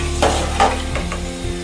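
Sliced elephant foot yam and other vegetables fry in a pan, giving a soft sizzle broken by a few quick stirring scrapes close by.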